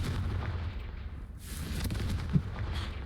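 A Confringo fire spell bursts in the Hogwarts Legacy video game, a muffled boom and crackling blast over steady game noise, with no voices.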